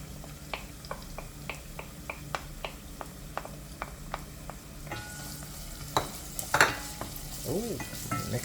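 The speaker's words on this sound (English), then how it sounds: "Lower the heat and allow that to saute and soften up for a few minutes. And now I'm ready to add my saltfish." Saltfish being stirred and sautéed in a frying pan for Jamaican seasoned rice, with a steady soft sizzle and repeated light scraping clicks of the spoon, growing busier and louder near the end.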